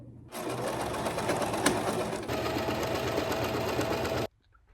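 A sewing machine runs steadily for about four seconds while stitching rows of a flannel baby quilt together, then stops. It sounds loud and close, with a continuous motor whir and a brief change in tone partway through.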